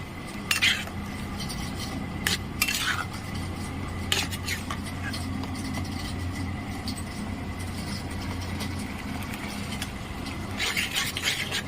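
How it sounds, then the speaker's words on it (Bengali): Masala Maggi noodles with soy sauce stirred in a pan, a metal utensil scraping and clinking against it in a few sharp knocks over a steady low cooking hum. "দিয়ে আমি ভালো করে নেড়ে নেব"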